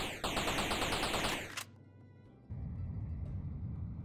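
Gunfire in the video game Space Trash Scavenger, a rapid mechanical burst of repeated shots that cuts off abruptly, followed by a low rumbling hum and then a steady droning noise, with no voices.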